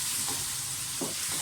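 Spices, green chillies and softening tomatoes frying in a pan, with a steady loud sizzling hiss and a couple of soft stirring strokes.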